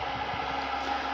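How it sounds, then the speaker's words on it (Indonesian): A cooling fan on a boxed power supply for a four-channel car audio amplifier in a home setup gives off a steady, fairly loud whooshing hum with no pauses. "Ini adalah bunyi kipas"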